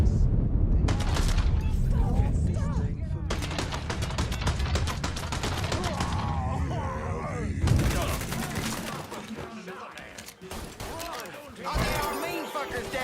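Gunfire in the video game Mafia 3: dense, loud bursts of rapid automatic fire and single shots blend with shattering impacts and raised voices throughout, easing briefly before another volley.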